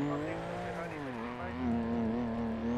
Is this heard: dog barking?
no